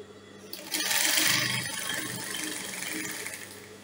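A sewing machine runs a short, soft burst of top stitching on a fabric flounce, a quiet mechanical whir with light rattling that starts abruptly and then settles into a steady hum.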